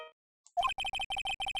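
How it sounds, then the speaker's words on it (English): A phone ringtone from the Phoenix Wright Ace Attorney game plays a bright, repeating electronic tune in quick, evenly spaced pulses after a short pause, loud and close, with no talking over it. "I know that song your phone plays when it rings."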